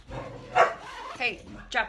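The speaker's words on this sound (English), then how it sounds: "let me kick these dogs out of here" Dogs bark and yip indoors at a home sewing workspace, three sharp barks spaced apart, close and loud, with a person speaking between them.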